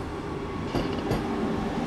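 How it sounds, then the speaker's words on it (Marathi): A Vande Bharat Express rushes past a railway crossing at night with a loud, steady roar of rolling wheels and rushing air, punctuated by faint clacks over rail joints. "समोरच आपल्या Vande Bharat express pass out होते"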